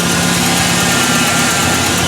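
A 2002 GMC Sonoma with a 2.2-litre engine idles with a misfire, giving a loud, close, steady rumble with uneven low thumping and no talking.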